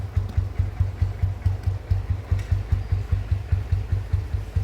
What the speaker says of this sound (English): Started the bike, cold start, packing up.